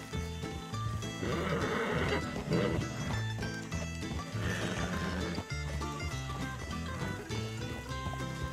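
A horse in Red Dead Redemption 2 neighing with a couple of whinnies near the start, hooves clip-clopping close by, set over steady game background sound and music.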